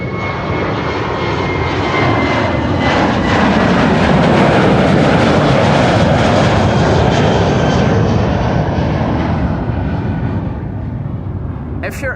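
A jet airliner roars past at Amsterdam Schiphol Airport, a loud, continuous engine rumble that swells and slowly fades, with no talking over it.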